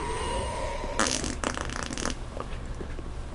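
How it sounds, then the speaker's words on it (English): Short comic fart noise in Dark Souls 3, a raspy burst of about a second set over quiet game ambience, with a softer sputtering tail after it. "Just cracked off a fart sound"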